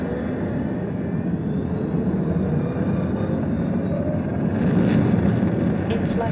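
A spaceship in a video game blasts off westward, a steady engine rumble building slightly louder near the end, with no voices over it.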